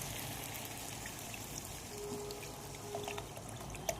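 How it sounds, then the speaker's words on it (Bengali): Water is poured into a pot of braised chicken and potatoes, a quiet steady pouring and bubbling wash that continues without break, with a faint tone briefly heard midway. "মাংসটা আমার কষা হয়ে গেছে, এবার আমি জল দিয়ে দেবো"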